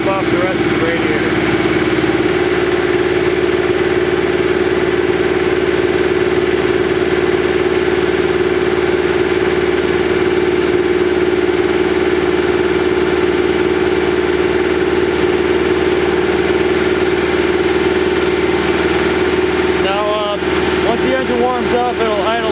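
A Subaru engine idles steadily while warming up during a coolant fill and burping job, with a continuous low hum and a brief rattle near the end.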